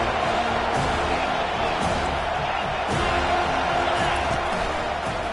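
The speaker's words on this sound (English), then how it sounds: "Decibels rising as the crowd gets behind this defense on third down." Stadium crowd noise in the Madden 24 football video game, a continuous roar swelling under a commentator's voice on a third-down defensive play.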